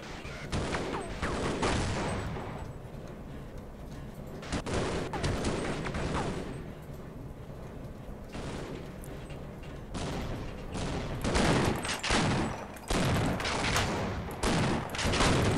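Shotgun blasts in the video game Black Mesa: loud, booming discharges in irregular clusters, several shots in quick succession with brief gaps between bursts, up close and with no talking.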